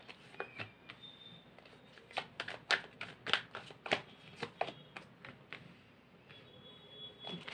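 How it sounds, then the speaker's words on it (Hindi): Tarot cards being shuffled by hand during a reading, a run of soft papery riffles and flicks at close range, irregular in rhythm with several louder bursts in the middle, no talking. "मैं शफल कर रही हूँ"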